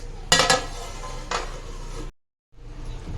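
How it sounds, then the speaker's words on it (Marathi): A lid is set on a pan of potato wafers frying, giving two metallic clanks, a sharp one then a lighter one, over a low frying hiss, followed by a brief silence. "आपले बटाट्याचे वेफर खालीवरती करून झालेले आहेत ते एकसारखे शिजावे म्हणून आपण याच्यावरती झाकण ठेवणार आहोत"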